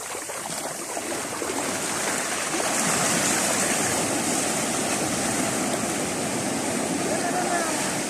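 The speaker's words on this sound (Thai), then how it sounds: "ลุงบ้าวกับเจ้าปูก็พามาลงทะเลกันอีกนะพี่น้องนะ" Surf rolls in at Mai Khao beach in Thalang as a dense, constant rush of breaking water that swells slightly louder partway through and stays steady to the end.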